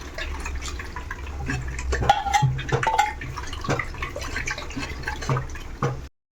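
Water splashes and drips as freshly made paneer is rinsed in clean water to wash out the vinegar, an irregular run of trickles, pours and small splashes close by, ending abruptly.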